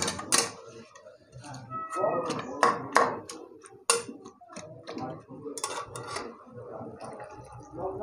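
Boiled taro and potato are mashed with a metal spatula in a hot pan, giving repeated sharp scraping clicks and knocks against the metal in an irregular rhythm, close and fairly loud.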